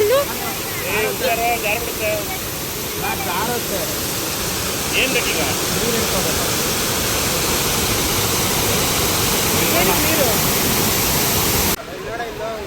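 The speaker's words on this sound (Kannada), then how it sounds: "ವಾಕ್ ಮಾಡಿಸ್ಕೊಂಡು ಫಾಲ್ಸ್ ಹತ್ರನೇ ಕರ್ಕೊಂಡು ಬಂದ್ಬಿಟ್ಟಿದ್ದಾರೆ ಫ್ರೆಂಡ್ಸ್" A waterfall roars nearby as a dense, steady rush of falling water that fills the whole stretch, with voices talking faintly underneath.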